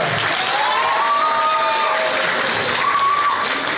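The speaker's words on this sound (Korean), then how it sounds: "손혜원 최고위원님 박수 부탁드립니다" A crowd at a political party's founding convention claps in sustained, even applause, with scattered cheers and a voice carrying over the noise.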